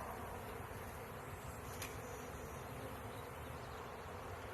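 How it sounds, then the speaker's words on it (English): A dense, steady buzz from a big clump of honey bees in the bottom of a hive during a package installation, continuous and close, with no voices. "there's just a big clump of bees in the bottom of this hive"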